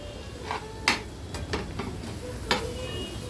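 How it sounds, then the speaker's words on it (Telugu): Ginger paste and curry leaves frying in a pan for fish fry make a low continuous sizzle, punctuated by a few light taps and scrapes of stirring. "ఈ అల్లం పేస్ట్ ఇలా కలర్ కొంచెం మారిన తర్వాత కరివేపాకు కూడా వేసుకొని కొద్దిసేపు ఫ్రై చేసుకున్నానండి"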